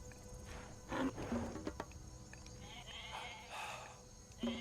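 Goat bleats in a game soundtrack, a few short cries rising over busy ambient noise and music, fairly close.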